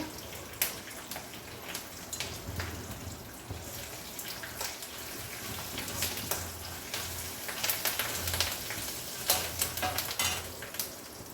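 A garlic and turmeric tempering sizzles in a pan, heard up close with sharp crackling spits and stirring scrapes over a bubbling hiss, louder bursts arriving irregularly across the whole stretch.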